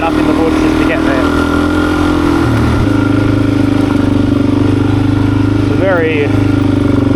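Suzuki DR-Z400 dirt bike running on a bush trail, a loud close engine drone with a brief rev change midway, heard under someone talking.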